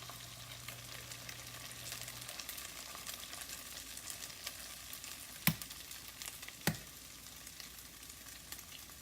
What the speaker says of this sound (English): we're going to mix these in and just fry this up with our carrots and our peas